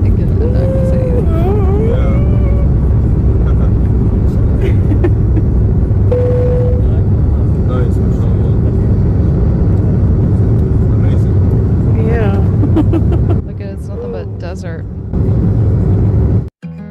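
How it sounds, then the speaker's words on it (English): An airliner taking off along the runway, heard from inside as a loud steady engine roar that holds throughout and drops off near the end, with voices and exclamations over it. "Love when a plane takes off."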